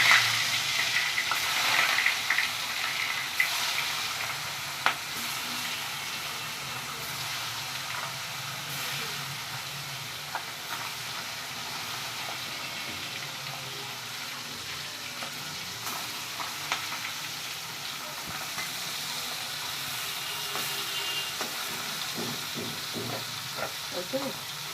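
Koi fish frying in hot oil in a home kitchen, a loud, continuous, dense sizzle and crackle lasting throughout, close up, with no talk over it.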